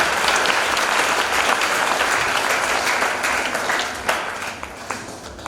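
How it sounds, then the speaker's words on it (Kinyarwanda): Crowd applause at a church ceremony for anointing evangelists and deacons at Betania Holy Church, Kamenge: a dense, sustained wash of many hands clapping close by, steady and loud before tapering slightly toward the end. "Musubira tukamukomera amashyi y'Imana"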